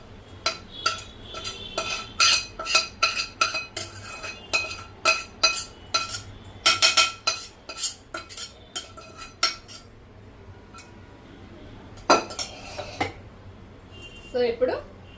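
A spoon clinks rapidly against a bowl while beating egg mixture for a palak, paneer and mushroom omelette, fast rhythmic taps in bursts with brief pauses, close and clear.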